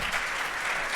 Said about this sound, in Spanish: Recibamos con un aplauso a la doctora Ruth.